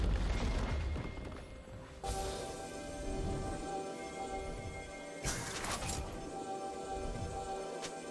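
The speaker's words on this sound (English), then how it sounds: "Blue team's turret has been destroyed." A turret is destroyed in League of Legends with a crash and boom, then a second, shorter impact burst. The effects sit over game music and ambience at moderate loudness.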